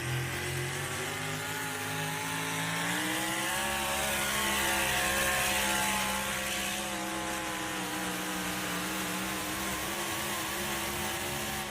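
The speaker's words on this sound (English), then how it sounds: "Good run for Murray Thornton, hitting the rev limiter right there at the end." A drag racing car engine, the car called Thumper, revs hard and holds against its rev limiter, a loud sustained buzzing roar with rising harmonics that swells midway and then settles.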